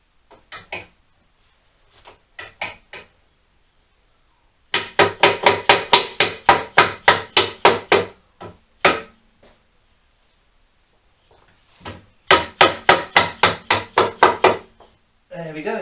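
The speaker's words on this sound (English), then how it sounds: "sometimes you do just need to resort to the rubber hammer" Two rapid bursts of sharp, rhythmic rubber hammer strikes, about ten blows each, close and loud, with a few scattered single knocks between them, while refitting the frame and swingarm on a Honda CBR400.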